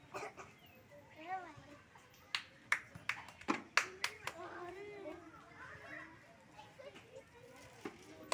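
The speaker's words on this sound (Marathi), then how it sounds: "अरे रे रे रे कुठे टाळ्या वाजवतो?" Children clap in a series of sharp, uneven bursts during a ball-in-bucket game, over chatter and excited young voices nearby.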